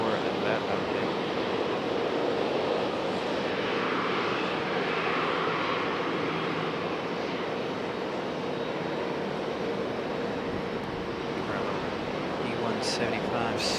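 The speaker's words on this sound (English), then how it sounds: "E175 scooting right off" An Embraer E175 airliner takes off from runway 23 right at Raleigh-Durham International Airport. A steady, broad jet roar at middle distance, mixed with wind noise, holds unchanged through the whole stretch.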